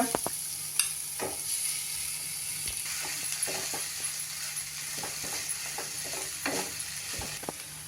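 A utensil scrapes and clicks against a pan in irregular strokes, stirring a mashed potato mixture for batata vada, while soft sizzling continues underneath, close and fairly quiet.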